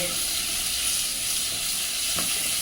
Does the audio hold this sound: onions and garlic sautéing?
yes